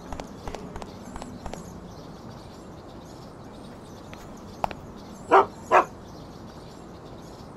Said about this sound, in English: I think there's a dog there. It's barking.